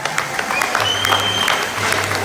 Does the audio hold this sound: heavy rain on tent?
no